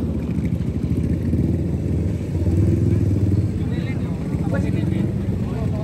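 Old Japanese motorcycles idle with a low, steady rumble at a coffee shop halal bihalal gathering of vintage bikes, while people talk nearby over the engines.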